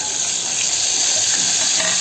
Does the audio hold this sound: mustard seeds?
yes